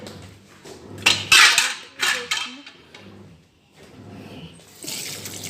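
Greasy stove parts being washed with soap and water, metal pieces clanking and scraping against each other in bursts, with splashing water near and fairly loud.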